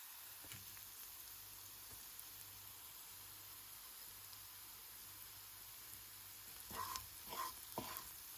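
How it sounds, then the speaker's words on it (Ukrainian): Onions fry in a pan until golden, a soft steady sizzle running faint and continuous, with a few brief clinks of a utensil stirring near the end. "Цибулю обсмажуємо до золотистого кольору."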